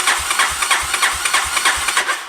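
A 37-year-old abandoned Honda engine runs at a steady, fairly loud idle, with an even, rhythmic chug throughout and no talking.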